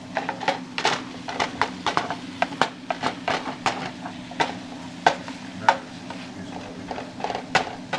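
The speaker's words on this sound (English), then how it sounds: "So, get my ladle here. Stir. Make sure nothing's sticking." A ladle stirs a cooking pot of sizzling food, its scrapes and clinks against the metal falling in an irregular, steady rhythm over a constant low frying hiss, close and clear.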